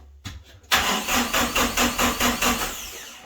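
A cold diesel engine on a New Holland tractor with a frame-mounted plow cranks briefly, catches with a loud burst, then chugs through several rhythmic pulses as it settles, close and alone.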